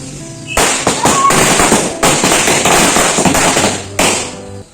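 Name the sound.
firecrackers bursting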